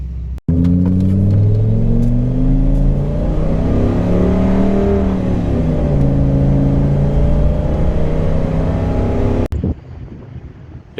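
A 1999 van accelerates loudly and close, its engine pitch climbing and dropping through several smooth gear shifts before cutting off abruptly near the end.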